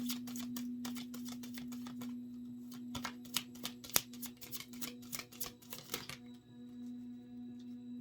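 Tarot cards shuffled in quick riffling bursts, a brisk rattle of crisp slaps and flicks for about six seconds, followed by quiet, all over a steady low hum.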